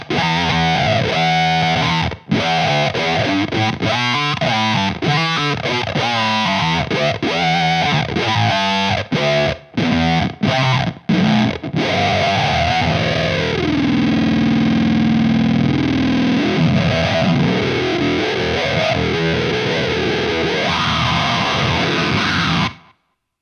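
A heavily distorted synth-like guitar tone from a Way Huge Atreides pedal, with deep sub-octave growl, plays choppy bursts, then sustained warbling notes, loud and buzzy throughout.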